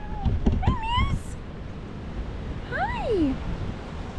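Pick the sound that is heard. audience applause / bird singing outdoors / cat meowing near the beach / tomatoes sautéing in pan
cat meowing near the beach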